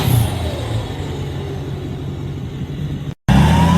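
Diesel truck with a high-power single turbo revving close by, a loud rough engine roar that holds and eases slightly, then cuts out briefly before surging back in.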